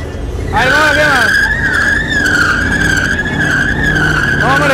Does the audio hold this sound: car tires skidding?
yes